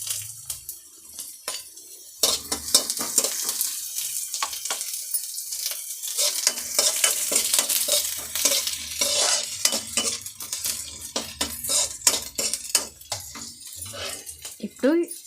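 Green chillies fry in a pan for boiled egg keema, with busy stirring and scraping of a utensil against the pan over a steady sizzle. Talk runs through parts of it.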